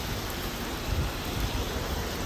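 Heavy rain pours down in Jeddah, Saudi Arabia, as a steady, dense wash of drops with faint low rumbles beneath, continuous and fairly loud, with no talking.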